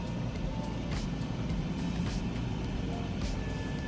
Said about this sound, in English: I hear the pump kicking on, so she should be up.